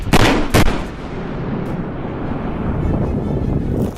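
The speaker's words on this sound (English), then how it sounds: "This is why it's crucial to regularly check equipment to avoid explosive surprises like" An electrical explosion from equipment near power lines: two sharp, loud blasts in the first second, then a sustained broad roar and crackle that continues at steady volume to the end, with no talking.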